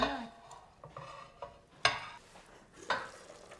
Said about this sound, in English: We add the herbs and then we stir it.